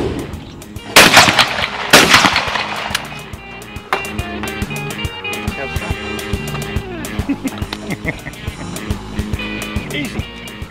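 Shotgun blasts at a skeet shooting competition at an Australian gun club: two loud, sharp reports about a second apart, followed by outdoor ambience with clicks and faint background chatter.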